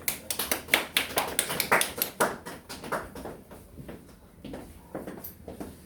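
Audience members at a school admissions information session clap to welcome a math teacher, with sparse, uneven handclaps from a small crowd that fade over a few seconds.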